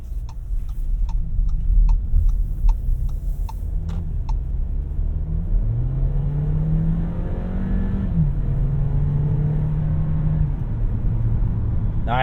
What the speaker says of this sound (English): This is probably one of the worst roads for road noise.